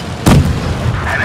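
A single heavy tank-cannon impact booms against enemy armor in WoT Blitz, with a Matilda tank on the Dead Rail map, and is followed by a lingering low rumble.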